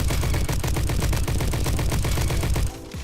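An STG rifle fires in the Roblox shooter Bad Business, a rapid, evenly spaced stream of loud automatic shots. The burst runs steadily for nearly three seconds, then stops abruptly.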